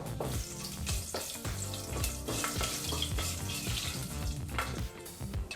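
Spices sizzle and crackle loudly in hot oil and ghee in a pan for tomato bath, with dense continuous frying and stirring clatter and no voices.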